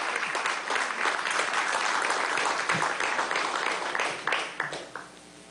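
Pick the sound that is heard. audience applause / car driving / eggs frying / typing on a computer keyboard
audience applause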